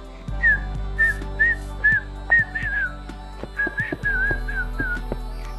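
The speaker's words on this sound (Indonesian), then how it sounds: "Siapa di sini yang pertama kali bisa bersiul?" A person whistles a short tune of bright, slightly sliding notes in two quick phrases, close and clear over a steady low background hum.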